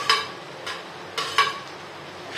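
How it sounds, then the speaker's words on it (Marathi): Tomatoes going into a large pan of sautéed capsicum and onion for a big batch of pav bhaji, stirred with a few soft scraping sweeps at an unhurried pace, fairly close over a faint low background. "आपण आता याच्यामध्ये टोमॅटो घालतोय."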